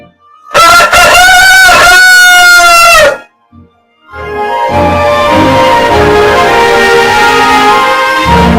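A rooster crows loudly and close, one long drawn-out call, followed after a short pause by a broad, sustained wash of mixed sound that carries on to the end.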